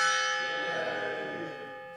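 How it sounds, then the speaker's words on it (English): An office gong rings out once, its bright metallic shimmer sustaining and slowly fading over a couple of seconds, heard alone and close. "I really like the gong."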